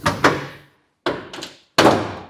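Three heavy, close thuds of a Volkswagen Saveiro Summer tailgate being shut, each followed by a brief ringing decay and silence between them.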